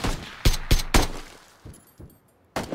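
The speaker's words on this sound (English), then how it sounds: "I'm being shot at by another guy" PUBG gunfire rings out as several sharp, loud single shots in an uneven rhythm, followed by a few fainter distant cracks and then one more close shot.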